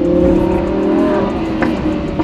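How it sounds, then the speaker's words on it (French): A red chrome Lamborghini's engine revs loudly and close, a sustained throaty roar that rises and settles with a brief crackle near the end, no talk over it. "pour ceux qui adorent les sonorités très sympas, ce moteur, honnêtement,"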